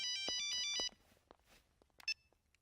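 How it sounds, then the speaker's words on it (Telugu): A telephone rings loudly in a domestic scene from a Telugu film, a bright electronic trill for nearly a second, then a quieter room with a short repeat of the tone near the end. "నీలు, ట్రావెల్స్ నుంచి ఫోన్."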